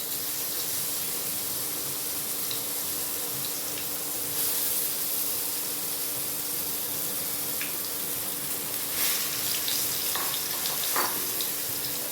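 Eggplant frying in a pan with black cumin seeds and green chilli for baingan bharta, a constant close sizzle with a few brief scrapes and stirring knocks, no voices.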